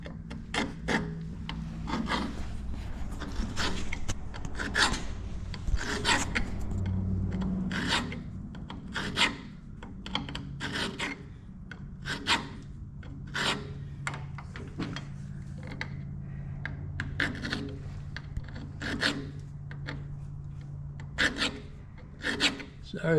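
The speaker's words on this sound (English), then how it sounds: "Gonna make a couple of threads on the end of it. Cutting threads." Steel rod being threaded with a die for a Heim joint steering setup, a repeated rasping cut with regular short strokes against a low steady hum, fairly close and moderately loud.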